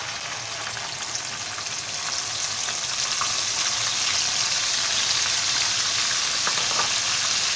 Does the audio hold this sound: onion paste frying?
yes